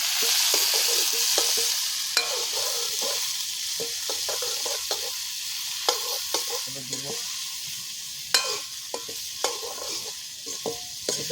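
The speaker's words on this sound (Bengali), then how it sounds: "চলো আলুগুলো ভেজে নেবো" Potatoes frying in oil in a village kitchen, a steady sizzle with irregular scraping and stirring clicks from a utensil against the pan, close and continuous with no talk.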